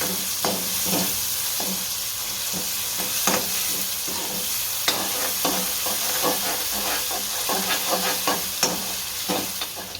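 Tomatoes sauté in a pan for masala bread with a continuous close sizzle and hiss, broken by frequent clicks and scrapes from stirring, and no voices.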